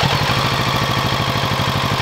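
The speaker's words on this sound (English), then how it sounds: "So this is stock exhaust. This is what it's gonna sound like." A Kawasaki Z650 motorcycle with its stock exhaust idles steadily nearby, not from a cold start, putting out an even, rapid low pulsing throughout, fairly quiet.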